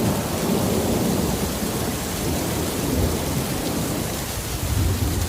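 Heavy rain pours in a dense, steady roar while thunder rumbles low underneath, the storm loud and unbroken from start to finish with no voices.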